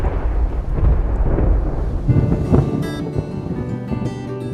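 A Texas storm rolls in as heavy rain and a deep, loud rumble of thunder, then fades to a steadier patter of rainfall with scattered drips, with no voices.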